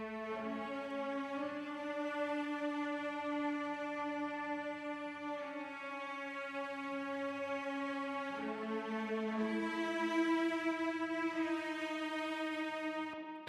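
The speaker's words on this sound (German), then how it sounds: "Und wie gesagt, die Celli, die spielen die Melodie." Cellos carry the melody in an orchestral composition, layered with horns: sustained, rich bowed tones that swell and shift pitch in long, smooth phrases, played steadily throughout without any voices.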